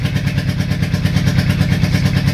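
A 1984 Honda Shadow 700 motorcycle engine idles at close range, finally firing on its front cylinder, giving a loud, steady, even pulsing throb that holds throughout.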